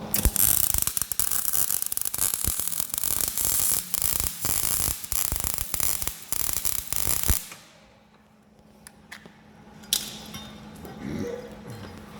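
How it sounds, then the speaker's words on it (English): Arc welding on a homemade steel pallet breaker, a loud dense crackle with bursts of buzzing for about seven seconds, then it stops abruptly, leaving quiet hum and a few faint clinks. "I'll do a proper weld now."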